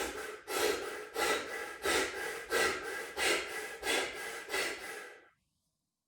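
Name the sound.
twenty rapid breaths, Wim Hof breathing method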